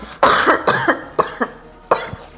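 A person coughs in a rough, hacking fit: about five sharp bursts in quick succession, close and loud, with short gaps and no speech between them.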